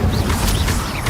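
An Incendio fire spell cast in Hogwarts Legacy produces a short, loud burst of whooshing flame with a crackling impact, close up and cluttered by other game effects.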